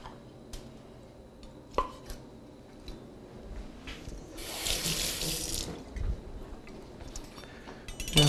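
Tap water runs into a kitchen sink as canned artichoke hearts are drained and rinsed, a steady broadband splash swelling loudest midway through, with occasional clinks and handling knocks around it and no talking.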